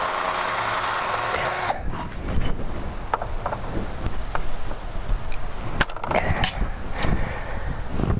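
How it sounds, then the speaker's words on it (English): A power drill match drills mounting holes for a Foxwing awning, heard as a loud continuous whine that cuts off, then scattered clicks, taps and handling knocks nearby. "And now all I have to do is to match drill them."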